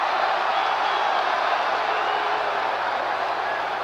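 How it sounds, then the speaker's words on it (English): A large stadium crowd at a 1979 World Series baseball game, Baltimore hosting, roars in a steady, distant wash of yelling that holds evenly for a few seconds without talk over it. "Crowd yelling balk, which it was not."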